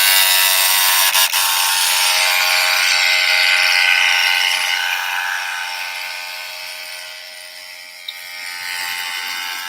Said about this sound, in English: There's going to be a hair dryer that I put on there to speed the process up